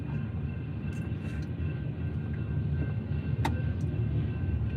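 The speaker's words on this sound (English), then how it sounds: "This train's forever long." A long freight train passes with a steady low rumble and rolling clatter, a couple of sharp metallic clanks rising above it, heard from a waiting car; no speech.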